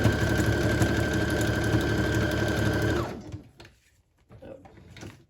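A sewing machine stitches a pamphlet cover binding in one loud, continuous close run for about three seconds, then stops abruptly, leaving faint handling clicks and rustles.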